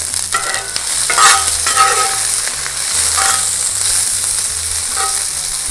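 Steak sizzles steadily in a hot pan on a lowered flame, with scraping and stirring noises as the pieces are pushed around. The sizzle stays close and fairly loud throughout, with no talking over it.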